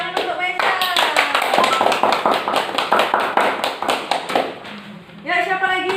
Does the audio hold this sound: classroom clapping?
yes